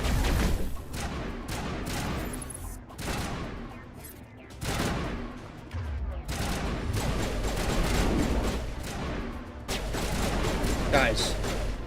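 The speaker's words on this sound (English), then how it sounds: "I know it probably doesn't do damage, but guys, stop shooting me in the back." Rapid gunfire from squadmates in the Mass Effect video game, with dense bursts of shots and booming impacts that run almost without a break, while someone talks over the battle.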